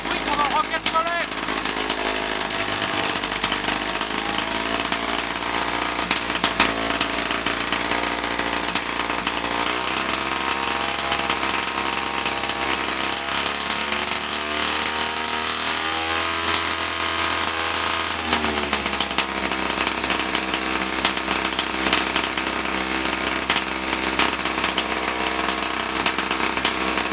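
Racing Solex moped engine blaring very loudly and close, a harsh chainsaw-like buzz held steady with small swells in revs throughout.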